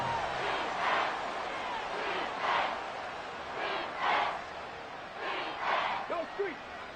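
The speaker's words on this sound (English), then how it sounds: "This crowd turning up the decibel level." At a football game, a stadium crowd roars in loud, rising waves about once a second that swell and fade, with a play-by-play commentator talking over the noise.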